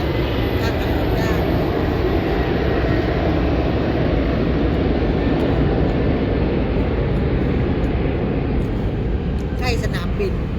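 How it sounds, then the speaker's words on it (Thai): An airplane flies low near an airport, producing a steady, broad roar that stays loud and even throughout. "ใกล้สนามบินเสียงเครื่องบินมันบิน"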